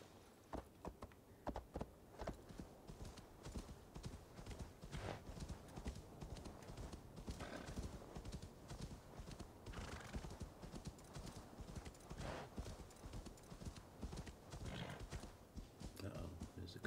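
Continuous hoof clip-clops from a trotting horse with an occasional whinny, set against busy sounds of the game Assassin's Creed Valhalla and a voice talking over it.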